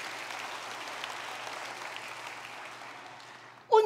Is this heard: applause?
yes